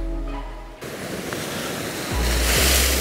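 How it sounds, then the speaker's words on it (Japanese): Ocean surf breaking on the rocky shore of a small island off northern Kyushu during the rainy season, with a southerly swell; a steady loud wash of waves with a surge building toward the end, no voices. "こっち側から波が来ますんで"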